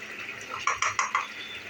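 A spoon stirs jackfruit curry with ghee in a pan, giving four quick, distinct clinks in a steady rhythm over a faint simmering background.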